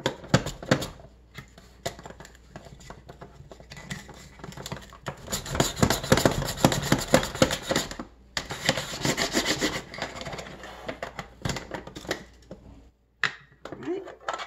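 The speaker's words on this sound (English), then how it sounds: "I'm sure the better your mandolin, the better your potatoes will slice." Potatoes being sliced on a mandoline for crispy potato chips, rough rasping strokes in bursts, loudest and densest in the middle, with brief pauses between passes.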